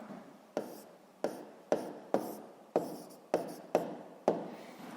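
Pen or pencil writing by hand on paper during a sixth-grade maths exercise: eight sharp strokes, each fading into a scratchy drag, coming at a steady rhythm close up, with no voices.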